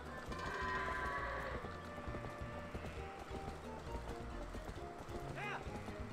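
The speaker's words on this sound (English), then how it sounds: "Now, we're gonna herd some goats." Goats are herded in Zelda: Twilight Princess, with livestock bleats, hoof clatter and in-game music and effects. Someone talks over the scene at a modest level.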